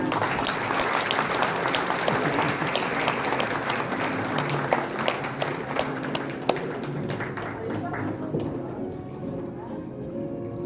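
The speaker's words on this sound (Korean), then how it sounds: "큰 박수 부탁드립니다" A large audience applauds steadily at a public report meeting of the Gyeongsangbuk-do transformation committee as a policy proposal is handed to the governor. The dense clapping carries scattered sharper claps and thins out toward the end.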